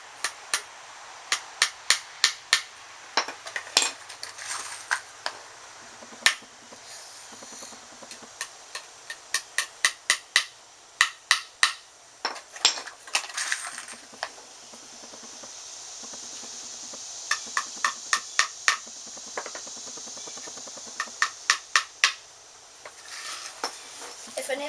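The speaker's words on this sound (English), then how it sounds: "I hammer it into place." Sharp metallic strikes come in quick bursts with pauses between, nails being hammered into wood while building a birdhouse, heard fairly close over a faint steady hiss.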